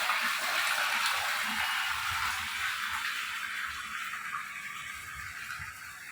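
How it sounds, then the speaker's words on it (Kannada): Water running and being wasted in a public toilet room, a steady hissing gush that stays fairly constant and close, easing slightly toward the end with no voices. "ಒಂದು ಟಾಯ್ಲೆಟ್ ರೂಮ್ನಲ್ಲಿ ನೋಡ್ರಿ ನೀರು ಯಾವ ರೀತಿ ಪೋಲಾಗ್ತಾ ಇದೆ"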